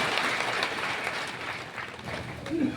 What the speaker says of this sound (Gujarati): તમામ દાતાઓ માટે તાળીઓ પાડીને એમનું સન્માન કરો